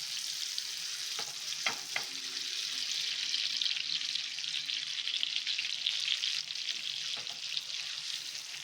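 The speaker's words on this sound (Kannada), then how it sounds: "ಈಗ ಎಣ್ಣೆ ಬಿಸಿ ಆಗಿದೆ, ಫಿಶ್ ಹಾಕ್ತಾಯಿದ್ದೀನಿ" Mackerel pieces go into hot oil on a tawa over a medium flame, setting off a loud, continuous sizzle, with a few sharp clinks and scraping stirs early on and no voices.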